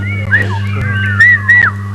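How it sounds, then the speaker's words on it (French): Whistling from a television game-show audience, several rising and falling whistled tones over a steady low hum, with two brighter, louder whistles near the end. "Les sifflets, les sifflements"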